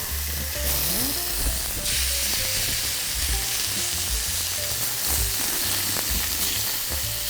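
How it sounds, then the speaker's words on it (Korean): Seasoned meat sizzles loudly and steadily in a hot frying pan, a dense continuous crackle with occasional clinks of utensils and no talking. "이제 프라이팬이 달궈졌으면 네, 네 밑간 해둔 고기를 구면 됩니다."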